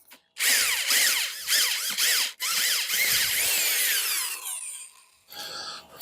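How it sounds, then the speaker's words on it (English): A Black & Decker 7 amp half-inch electric drill boring into clay, loud whining bursts of the motor with the bit grabbing and catching, stopping briefly between runs before a final short burst. "I'm digging through clay right here, and it's grabbing this bit, so you gotta be gentle."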